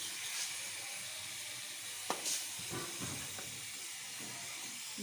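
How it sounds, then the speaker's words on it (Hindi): Chicken frying in butter and oil in a pan, a soft steady sizzle and hiss with occasional brief clicks and stirring noises, fairly quiet and without talk. "थोड़ा सा हमने इसमें ऑयल भी ऐड कर दिया फ्राई करने के लिए।"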